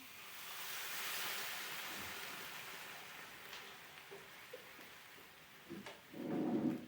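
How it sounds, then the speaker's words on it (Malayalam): Hot water poured into sautéed vegetables in a pan sets off a broad, hissing sizzle that slowly fades to a quiet simmer, followed by a few faint clinks and a short, louder bubbling burst at the end. "ഇനി നമുക്കിതിനകത്തേക്ക് ഒന്ന് വേകാൻ വേണ്ടിയിട്ട് കുറച്ച് വെള്ളം ഒഴിച്ചു കൊടുക്കാം. ഞാനിത് ചൂടുവെള്ളമാണ് ഒഴിച്ചു കൊടുക്കുന്നത്."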